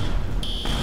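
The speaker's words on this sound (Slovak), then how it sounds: "Fire alarm." A fire alarm in the video game Teardown sounds as a steady high electronic beep that shifts to a sharper overlapping tone partway through, loud and close in a short burst.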